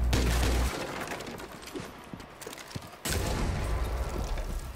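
Muffled booms and bursts of gunfire rumble through a noisy game soundscape, with a sudden loud blast cutting in partway.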